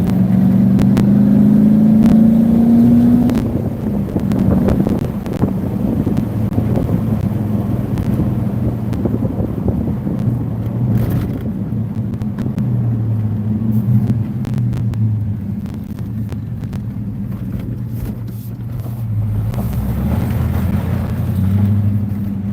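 A Holden VU SS ute with an LS1 V8 drives and slides on a dirt track, its engine a loud, continuous low rumble that revs and eases, with wind buffeting the microphone.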